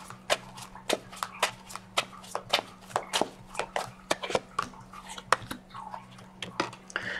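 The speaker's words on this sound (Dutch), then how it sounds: "Dus de kaarten schudden om te kijken wat deze week voor jou gaat brengen." Tarot cards are shuffled by hand, close up. Sharp papery snaps and flicks repeat in quick, uneven bursts for several seconds over a faint low hum.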